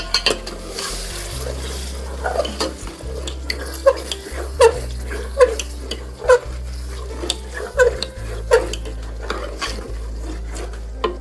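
A spoon scrapes and stirs a spiced mutton curry in a pot with repeated knocks against the metal, over a steady low hum with no talk.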